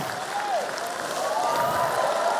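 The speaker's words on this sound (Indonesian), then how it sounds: "Pak Sandiaga Uno, tepuk tangan yang meriah buat beliau." Steady applause from a crowd fills the space, continuous and fairly loud, with a voice faintly audible over the clapping.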